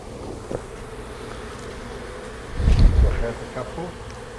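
Honey bees buzz around open hive frames and a shaker box during a sugar roll check for varroa mites, a close, steady hum that swells louder for a moment midway.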